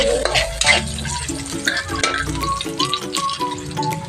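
Onions added to garlic browning in a pan for sweet and sour fish, a loud steady sizzle with scraping, clinking stirs of a utensil close by and no talk.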